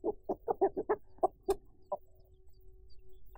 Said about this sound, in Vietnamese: em dẫn anh Tư đi coi con gà chiến của đúng em